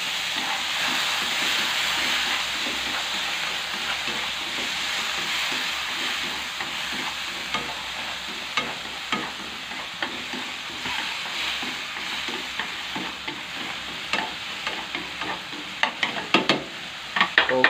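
Tomatoes cook down into a sauce for oysters in a hot pan, with a continuous hissing sizzle and steam, broken late by a cluster of sharp utensil scrapes and taps.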